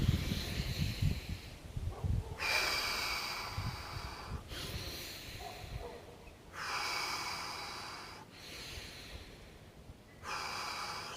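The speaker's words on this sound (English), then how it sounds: "as I breathe in" Slow meditative breathing close to the mic, several long airy inhales and exhales in a steady, unhurried rhythm.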